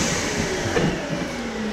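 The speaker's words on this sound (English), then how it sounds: "when the blower's on, it expands itself" A BigBoi BlowR Mini blower runs, a steady broadband rush of blowing air with a low motor hum, close and constant for a brief stretch.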